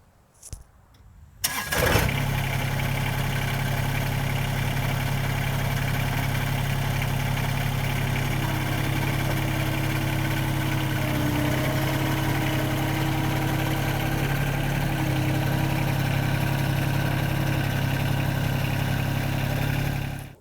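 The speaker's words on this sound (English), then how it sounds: "I generally put it in four-wheel drive to go up and over the deck" A John Deere 2320 compact tractor in four-wheel drive starts up and runs steadily as it drives up and over its mower deck, a loud, constant diesel drone with a low hum lasting throughout after a brief quiet start.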